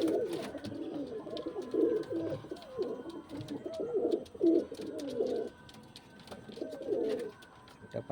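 Pigeons coo in a loft where birds are kept for winter tournament flying, with soft, overlapping throaty coos repeating steadily at close range and no talk.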